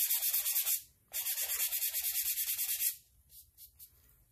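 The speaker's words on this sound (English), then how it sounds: "You can just take some sandpaper, and in places where you may have transferred some ink" Sandpaper rubs ink spots off a painted rock in quick, rhythmic back-and-forth strokes, close and crisp, in two long runs and then a few softer, quieter passes.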